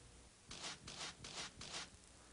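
Cloth wiping lacquer off a wooden furniture surface in four quick, close back-and-forth rubbing strokes, soft but distinct, with no talk.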